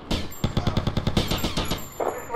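Rapid gunfire in GTA Vice City, a close, loud burst of about a dozen evenly spaced shots, followed by a short pause and one more shot.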